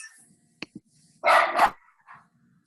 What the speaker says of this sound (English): My dog's gonna bark, so I'm gonna mute myself.